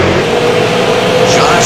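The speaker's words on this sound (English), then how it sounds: "The sound of the super lates work their way out of turn number 4." Super late model race cars roar out of turn four at New Hampshire Motor Speedway, a dense, loud, sustained engine drone with a steady pitch as the field passes.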